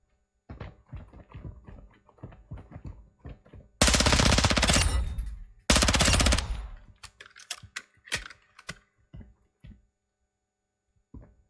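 Vel 46 submachine gun fire in Modern Warfare 2, with two long loud sustained automatic bursts in the middle, surrounded by scattered lighter clicks and taps.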